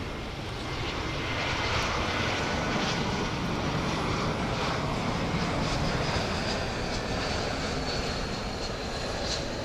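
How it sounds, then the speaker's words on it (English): An American Airlines Airbus A321 airliner arrives at DFW Airport at night, its jet engines a steady, loud, broad roar throughout with no talk. "It's Airbus A321 coming in from San Diego, California."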